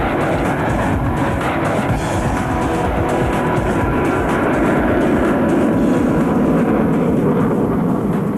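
Blue Angels jets rolling out of formation during an air show demo, a loud, continuous roaring rumble that swells slightly toward the end with no talk over it.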